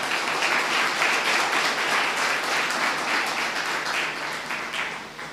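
Sustained applause from an audience at a church gathering in Andhra, steady dense clapping throughout that tapers slightly toward the end, with no talking over it.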